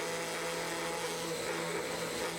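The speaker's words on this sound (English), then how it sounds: "I'm just going to give it a quick sand" A power sander works over a wooden piece in a woodworking shop, giving a steady, even whirring hiss with no breaks, fairly quiet and heard alone.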